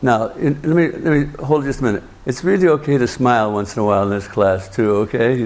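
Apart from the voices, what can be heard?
No everyday noises stand out.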